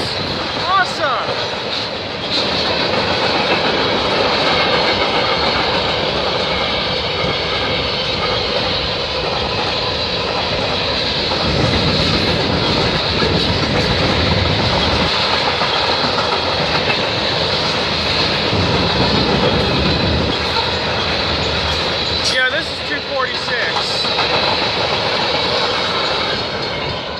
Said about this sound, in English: we got a eastbound train